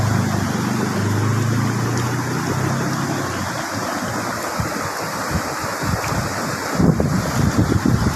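Khiri Wong waterfall in Nakhon Si Thammarat rushes steadily as a loud, dense roar of falling water, with gusts of wind buffeting the microphone throughout.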